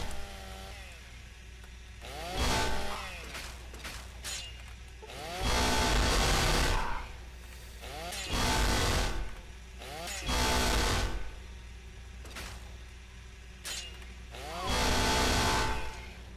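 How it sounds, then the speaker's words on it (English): Chainsaws revving in bursts during a duel in the video game Fallout 3, several loud roaring surges rising and falling over a steady engine drone, with brief gaps between the bursts. "Let's have ourselves a chainsaw duel."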